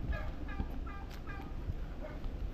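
Turkeys kept in a netted enclosure on a farm in Palauig, Zambales gobble in several short, rapid warbling bursts, moderately distant, with outdoor background noise throughout.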